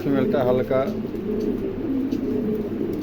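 A pair of black Pomeranian pigeons coo in throaty, rhythmic bursts close to the microphone, with low cooing continuing under a murmur of background voices.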